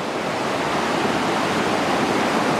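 The San Gabriel River's West Fork, Bear Creek and North Fork run high after rain, a loud, steady, broadband rush of water that continues unbroken throughout.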